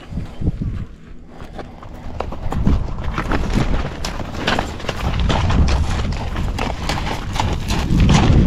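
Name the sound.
horse hooves stepping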